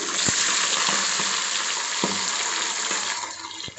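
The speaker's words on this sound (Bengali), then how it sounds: "তেলটা আমার গরম হয়ে গেছে, আমি এখানে একে একে মাছগুলো দিয়ে দিচ্ছি।" Bhetki fish pieces fry in hot oil, a loud, dense, continuous crackling sizzle close by, with a few sharp clicks and taps from the pan throughout.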